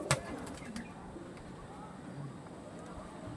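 Pigeons coo faintly in a loft full of breeding birds, soft repeated murmurs under a steady background hum, with a sharp brief sound near the start.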